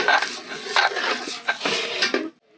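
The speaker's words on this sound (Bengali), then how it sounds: "এখন আমি কাঁঠালের আটি বেটে নেব।" Boiled jackfruit seeds being ground into a paste, heard as a close series of about five rhythmic scraping, grinding strokes that stop abruptly near the end.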